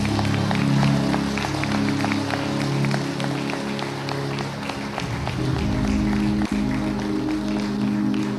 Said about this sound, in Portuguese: Será que você pode aplaudir ao Senhor por essa palavra?